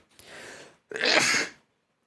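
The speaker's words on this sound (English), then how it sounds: "Sneezing fit." Two sneezes in quick succession, the first a softer breathy burst and the second louder and harsher, heard close and alone with no talk around them.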